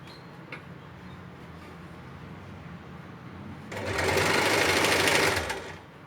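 A sewing machine stitches along folded fabric piping in one steady, close burst of rapid needle clatter lasting about two seconds, after a quiet stretch with faint room noise.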